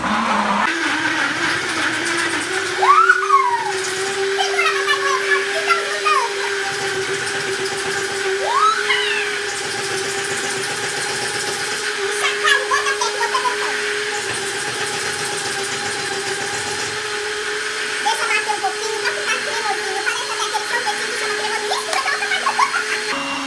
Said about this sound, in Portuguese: E aí, nós vamos liquidificar.